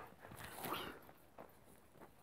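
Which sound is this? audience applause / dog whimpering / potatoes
dog whimpering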